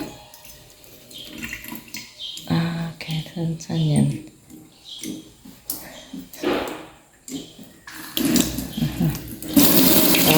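Tap water runs and splashes into a kitchen sink in a house up for sale, in irregular bursts that swell louder toward the end, with a person talking throughout.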